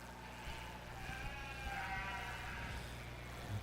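Sheep bleat faintly at a junior breeding sheep show at the Ohio State Fair, with a few distant, wavering calls over a low murmur of arena background noise.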